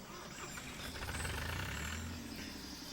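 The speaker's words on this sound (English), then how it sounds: "With a clunky little tractor." A clunky little tractor in Farming Simulator 25, its engine chugging low and fairly faint with a rough, knocking idle that swells briefly in the middle, no speech.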